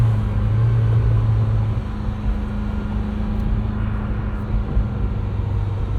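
A 1980 Ferrari 308 GTBi with a gated 5-speed holds a steady, loud engine drone from inside the cabin while driving, with a deep low hum that eases slightly after the first couple of seconds.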